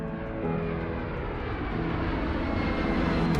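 Airplane engine droning steadily from inside the cabin during a flight carrying manatees, a loud, continuous low roar with a constant hum and no voices.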